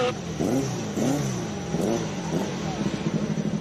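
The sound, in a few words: race car engine revving at hill climb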